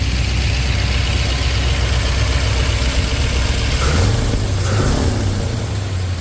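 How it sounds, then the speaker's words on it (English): Steady, loud idle of a 1967 Ford F250 Highboy pickup engine with a newly replaced carburetor, an even low rumble close by with a slight shift in pitch toward the end. "The idle's nice and smooth."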